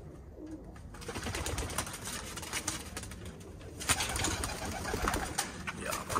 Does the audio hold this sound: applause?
no